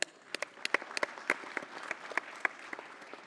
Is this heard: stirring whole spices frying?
no